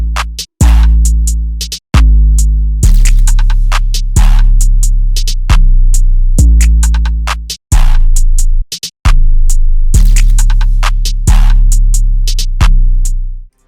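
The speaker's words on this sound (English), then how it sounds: "So all together, the drums are gonna sound like this." FL Studio glo beat drum pattern: booming sustained 808-style bass hits with sharp clicks, snaps and a camera-shutter-like flick, loud and punchy in a repeating rhythm, with brief dropouts and no talk.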